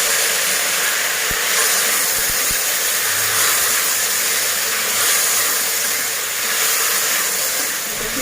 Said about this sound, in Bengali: এবার আদা রসুন টমেটোর পেস্টটা দিয়ে দিচ্ছি।